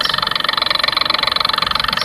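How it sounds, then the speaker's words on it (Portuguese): An opened-up refrigerator compressor motor, stripped down to its piston and pulley and rigged with a small switch, runs with a loud, steady pulsing drone close by. "Pronto, motorzinho de geladeira"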